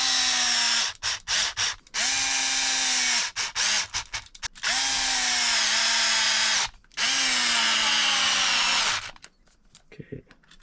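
A power drill drives screws in on a repair bench, with several sustained whirring runs separated by short pauses and clicks, close and loud, fading into quiet handling at the end.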